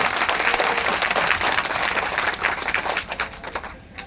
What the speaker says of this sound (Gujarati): એક ફેર દાદાને જોરદાર તાળીઓથી વધાવો બાપા